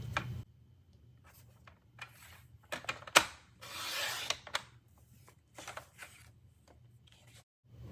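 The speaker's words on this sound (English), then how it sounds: "I'll cut right down this score line that is already there. So I'm lining up that score line with the track on my trimmer." Paper trimmer slicing card stock down an existing score line, heard as a few short, close rasping slides and taps in an otherwise quiet room, with low background hum.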